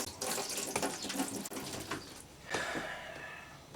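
Engine coolant pours from a Suzuki DL650 V-Strom motorcycle radiator into a hand-held container, a close, steady splashing trickle that surges again near the end.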